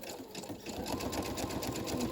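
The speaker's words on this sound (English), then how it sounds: "Now I'm gonna go ahead and take all the papers to the sewing machine." A home sewing machine stitches through layered paper for a junk journal, running as a steady, continuous mechanical whirr with a fast rapid needle rhythm, close and fairly quiet.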